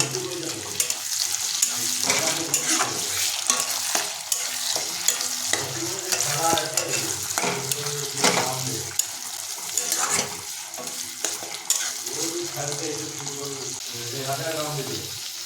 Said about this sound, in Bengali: যেহেতু আমরা টমেটো কুচি যোগ করেছি তাই এটাকে ভালোভাবে খুন্তি দিয়ে নাড়িয়ে নেব